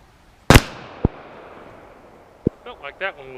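.380 handgun gunshots fired at a 50-yard target outdoors: one loud sharp crack, then two fainter distant pops spaced apart, followed by a brief voice.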